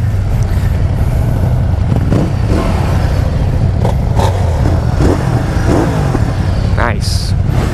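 Ducati Multistrada 1260 Pikes Peak motorcycle engine idling with a steady low rumble close by, while people talk over it.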